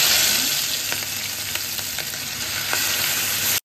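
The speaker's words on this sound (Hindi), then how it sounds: "तेल गर्म हो गया, सौंफ डालूँगी, दाल डालूँगी, जीरा डालूँगी" Fennel seeds, lentils and cumin sizzle in hot oil, making a loud, dense, close crackling hiss with scattered small pops and stirring taps before it cuts off abruptly.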